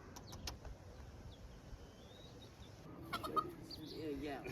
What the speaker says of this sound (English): Just a chicken?